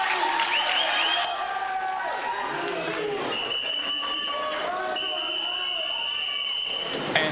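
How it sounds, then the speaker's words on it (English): A crowd at an indoor provincial swimming championship cheers and applauds, a lively wash of clapping and shouts mixed with sharp whistles, with an announcer's voice over it. "The crowd very excited to get the racing back underway here"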